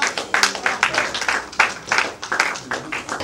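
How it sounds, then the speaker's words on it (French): Applause from the audience at the first Furaha Awards of Congolese cinema in 2021, a sustained, loud wash of many hands clapping in an uneven rhythm with faint crowd voices underneath. "Sous vos applaudissements, mesdames et messieurs"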